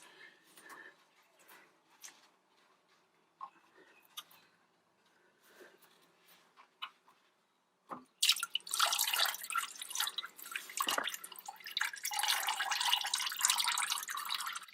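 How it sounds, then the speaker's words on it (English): Antifreeze drips from the radiator of a 1998–2002 Honda Accord into a waiting bucket, starting as faint scattered drips, then giving way after a sharp tap to a loud, steady rush of liquid splashing into the container. "When you remove that one, you're gonna start dripping some antifreeze"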